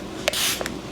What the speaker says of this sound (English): right now I'm going to set my face using the Juvia's Place setting spray